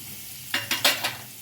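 Onion and roasted dry coconut tossed into a hot pan, giving four short bursts of crackling sizzle in quick succession before settling back to a quiet background.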